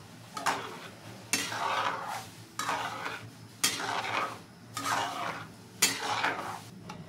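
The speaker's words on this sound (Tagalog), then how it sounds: "Tapos haluin ulit yan hanggang ma-dissolve yung toyo." Pancit canton sauce with soy sauce being stirred in a pan, a utensil scraping in repeated rhythmic strokes about once a second over a light sizzle, close and clear.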